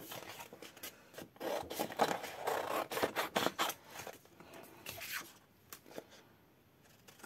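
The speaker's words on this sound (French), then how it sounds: "je vais découper maintenant" Scissors cut through paper for a dinosaur-shaped pop-up card, a run of quiet, close, rhythmic snips and rasping slides, with no voices.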